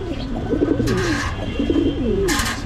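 A newly paired pigeon coos close by in two throaty, rolling phrases, with soft wing-flutter or rustling bursts between them over a steady background hum.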